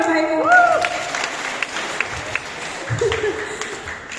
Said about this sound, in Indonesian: Iya, tepuk tangan ya Bapak Ibu.